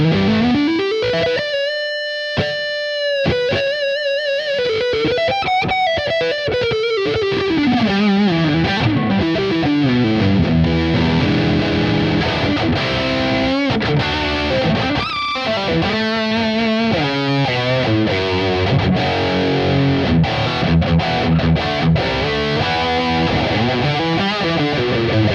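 Electric guitar on the neck pickup, run through an Archon 50 amp model in Tonex, plays a loud, continuous distorted passage of sustained chords and melodic lines with no talking.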